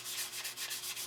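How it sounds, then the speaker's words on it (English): Steady rhythmic rubbing of sandpaper on wood, quick back-and-forth strokes, close and fairly soft. "you still got to do hand sanding"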